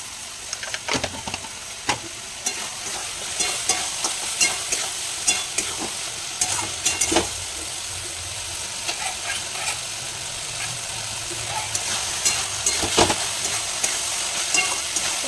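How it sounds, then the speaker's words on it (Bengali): Spice paste cooked down with water and sugar sizzles steadily in a pan, with repeated spatula scrapes and taps at an uneven rhythm throughout. "জলটা দিয়ে দেবো, দিয়ে ভালো করে কষিয়ে নেবো"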